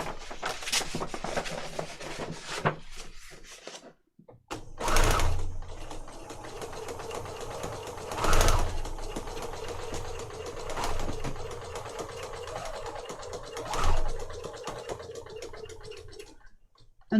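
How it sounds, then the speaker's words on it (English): A sewing machine stitches along the top edge of hinge fabric on a file folder journal cover in several steady whirring runs, separated by brief stops and one short pause. "I'm going to start up here at the top, which will be under the hinge fabric"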